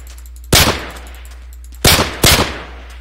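A USP pistol in Minecraft's Flan's Mod fires three loud, sharp shots, one alone and then two in quick succession, each ending in a short decay, with quiet gaps between them.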